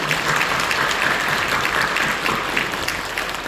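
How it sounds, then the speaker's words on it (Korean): A church congregation applauds in encouragement during a Sunday service, a continuous, even spread of many hands clapping together, fairly loud and sustained throughout. "박수로 격려해 주시죠."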